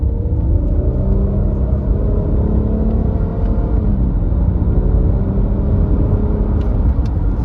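A 2016 Nissan Quest SV minivan with an XTronic CVT accelerates hard with wheel spin, giving a steady loud engine drone and road rumble from inside the cabin, with a rising whir and no talk.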